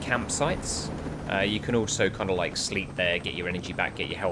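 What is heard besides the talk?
No distinct noise like a dog, phone or traffic.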